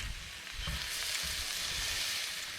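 Whiting fillets frying in a pan give off a steady, even sizzle that holds at a constant level throughout, with soft low crackles underneath and no voices.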